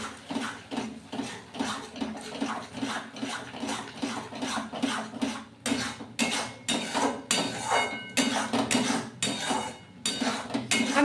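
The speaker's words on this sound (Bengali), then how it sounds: "ভালোভাবে নেড়ে চেড়ে মশলাটা কষিয়ে নেব আমি" A spoon scrapes and knocks rhythmically against a pan as masala for a potato and pointed gourd korma is stirred and fried, in quick, even strokes that continue throughout.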